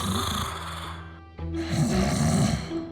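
Man snoring loudly at night, a harsh, rumbling, droning snore with a long drawn-out inhalation and a brief pause mid-way, close and steady.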